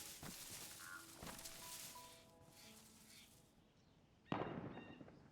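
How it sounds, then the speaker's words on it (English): A single sharp gunshot cracks out near the end in the video game DayZ, following quieter ambient game sounds with faint tones. "there's a gunshot."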